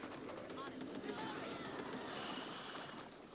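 Gunfire in the co-op zombie shooter Back 4 Blood rattles in a dense, continuous stream, heard quietly and somewhat muffled beneath people talking.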